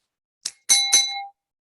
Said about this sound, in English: hit the little bell if you want